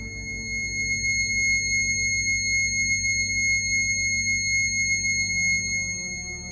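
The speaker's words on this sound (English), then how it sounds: "2160 is a high C sharp" A steady electronic pure tone at 2160 Hz, a high C sharp, holds for about six seconds, loud and unwavering, with a faint low pulsing hum underneath.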